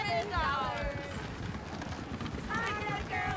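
Horse hooves clip-clop rhythmically in a video game, running steadily beneath overlapping speech.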